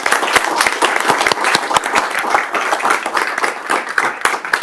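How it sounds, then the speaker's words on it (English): An audience applauds a company receiving an award at a county commissioners' work session, dense sustained clapping from many hands, loud and close throughout. "So let's give a round of applause for Broadcom."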